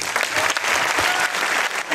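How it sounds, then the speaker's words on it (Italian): An audience at a public event in Pontedera breaks into loud, close applause, a dense and steady roar of clapping that fills the whole two seconds with no talk over it. "con un grande applauso Don Andrea Gallo"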